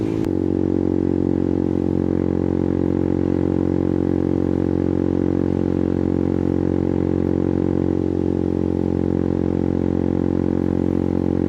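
A wrapped KTM Duke 200 motorcycle is ridden at a steady pace, with its single engine droning evenly and close-up in a constant hum the whole time.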